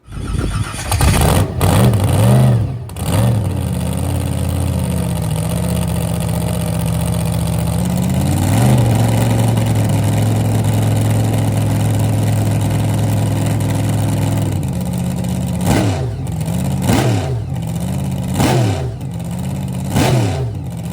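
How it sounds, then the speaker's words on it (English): A vintage fuel coupe funny car with a big block Chevy engine and a one-piece flip-up '34 Ford body revs hard at a cackle fest, loud and close, with sharp throttle blips between sustained roaring stretches. "This is a really cool looking car and makes some good noises."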